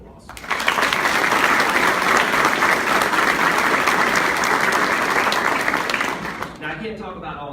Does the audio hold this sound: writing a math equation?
no